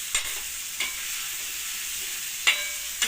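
Potatoes frying in a pan beside dill greens, with an even sizzle broken by four short, sharp spatula stirring clacks.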